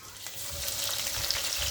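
Garlic turning golden in a pan gives a steady, close sizzle, with the soft scrape of a spoon stirring through it and no voices.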